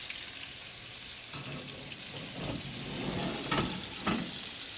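Breakfast sausage patties fry in a pan, a steady close sizzle with soft crackles and a few louder pops.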